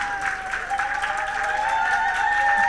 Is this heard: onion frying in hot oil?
no